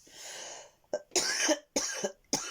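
A person coughs several times in short, hoarse bursts close to the microphone, following a softer breathy yawn-like exhale, with brief silences between the harsh coughs.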